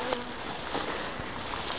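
A swarm of honeybees buzzes steadily and densely close by, a continuous droning hum with no speech over it.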